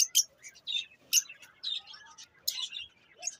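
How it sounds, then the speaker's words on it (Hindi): Lovebirds in a breeding colony give a run of sharp, high chirps and tweets in quick, irregular bursts, close by and fairly clear against a quiet background. "हमारे पास जो कॉलोनी है ना इसमें लव बर्ड वाले मस्तियों में लगे हुए हैं"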